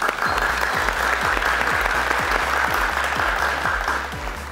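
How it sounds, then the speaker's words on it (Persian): A studio audience on a Family Feud–style game show claps loudly and continuously, the applause layered over a steady rhythmic thumping beat. "تشویق کنین"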